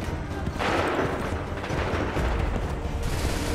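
A musket volley rolls out in Assassin's Creed III combat, a loud rumbling crackle of many shots followed by continuing booms and battlefield noise.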